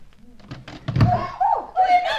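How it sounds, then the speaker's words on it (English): A door in an indoor passage is pushed open with one dull, close thunk, framed by voices and other tonal scene sounds. "Try this door first."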